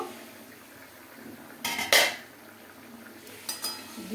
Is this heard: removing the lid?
yes